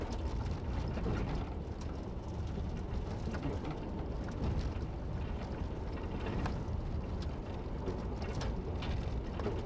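A Jeep Cherokee crosses rough, glazed winter road in Colorado's North Park, its cabin filled with a steady low rumble and dense, continuous rattling throughout, with no voices.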